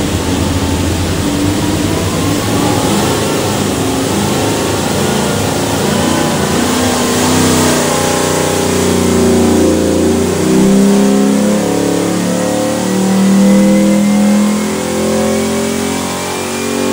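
A 427 LS V8 in a 1965 Chevy II roars on a chassis dyno, a loud, sustained engine wail climbing steadily through the revs with no voices.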